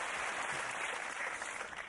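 Dense studio audience applause on a quiz show, a steady wash of clapping from many hands throughout.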